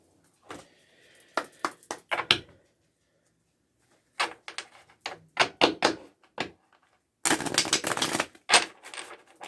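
A deck of cards is shuffled in several bursts of quick riffling flutters and taps, close and crisp, with short silent pauses between the rounds and a final dense burst at the end, no talking.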